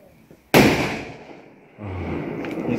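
Firecrackers set off during the Tihar festival: one sharp, loud bang that rings and fades, then a steady, crackling fizz from another cracker that keeps going to the end.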